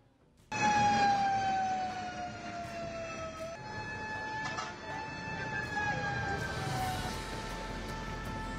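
A fire truck siren wails loudly and steadily, rising and falling as the truck responds to a blaze in Barangay 32D, Davao City, with street noise and traffic rumbling underneath.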